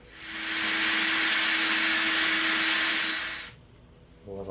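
A power drill with a skinny bit bores into EVA foam, whirring loudly and steadily for about three seconds before winding down, followed by a faint rustle.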